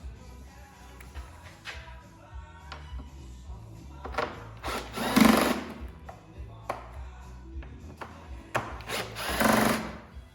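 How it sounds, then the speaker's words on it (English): A power driver spins out Torx 27 screws from the outer fairing of a 2018 Harley-Davidson Street Glide, giving several short whirring bursts between quiet handling clicks and rattles, close by, with no talking. "I like to take the outer screws off first because they're shorter."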